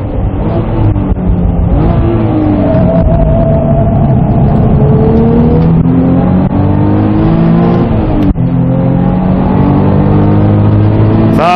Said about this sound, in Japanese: V 級エンジンが結構頑張ったね。